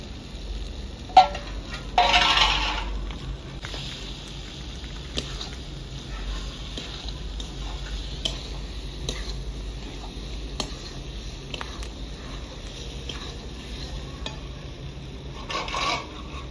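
Whole boiled potatoes are stirred in a pan with turmeric and red chili powder for aloo dum, giving soft, steady scraping strokes, quiet and close, with a couple of louder knocks and no talking.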